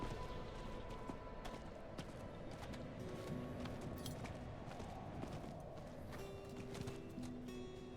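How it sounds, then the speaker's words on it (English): Steady, rapid hoofbeats of a horse galloping in the Diablo IV video game, a continuous clip-clop rhythm for about eight seconds, faint but constant, with no talk. "If only the pathing for horses was better in Diablo 4."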